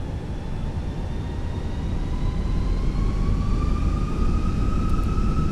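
Fenix A320 airliner jet engines spooling up at Heathrow in Microsoft Flight Simulator, a steady loud roar with tonal whines rising slowly in pitch and growing louder throughout, with no talking.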